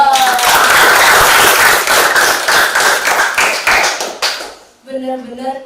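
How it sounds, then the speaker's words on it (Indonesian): An audience at a church talk show claps for about four seconds, a loud, dense burst of applause that fades out before a voice starts speaking. "kita beri tepuk tangan dulu dong"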